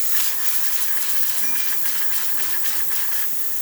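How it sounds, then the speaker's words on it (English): A La Pavoni espresso machine's steam wand hisses steadily after a full service and tune-up, a loud continuous rushing steam sound with slight fluctuations, close by and with no talk. "As you can see, steaming, working perfectly fine, looking really good, having good pressure."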